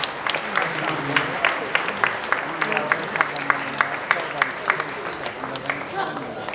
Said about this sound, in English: And your kind applause, please